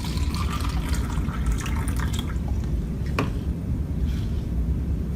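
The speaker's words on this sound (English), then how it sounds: "So tomato wash with tap water." Tap water running over a tomato being washed under a faucet, a steady close splashing and trickling stream with a few sharper drips, no talk.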